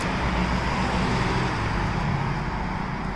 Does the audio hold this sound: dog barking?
no